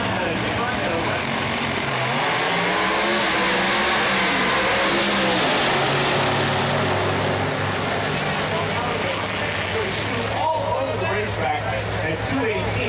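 A loud Dodge Viper drag racing engine roars and surges continuously on a quarter-mile run at an NHRA event, with crowd or commentary noise mixed in beneath the sustained mechanical drone.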